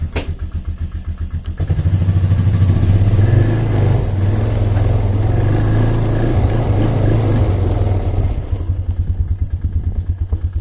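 Polaris Trailblazer ATV engine idling steadily, then revving and holding a loud, throbbing low drone as it backs up in reverse, easing down to a pulsing idle near the end.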